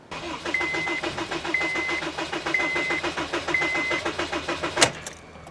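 A Honda Civic G8 with a shorted ignition coil cranks steadily for about five seconds without catching, the starter making a rhythmic, even chugging, then cuts off with a click.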